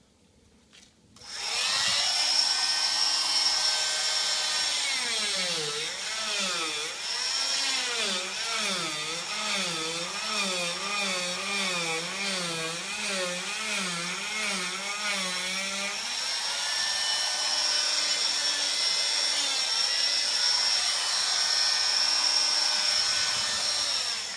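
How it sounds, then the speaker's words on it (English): A cast's toe plate is being trimmed off with a power tool, which gives a steady, loud whining drone that starts abruptly and runs continuously for over twenty seconds with a wavering pitch in the middle. "Now I'm going to trim the toe plate off to show you the bare minimum"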